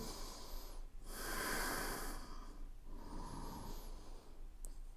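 Slow, deep breathing during a yoga side stretch: a long audible inhale followed by a softer, airy exhale, close and fairly quiet with no talking.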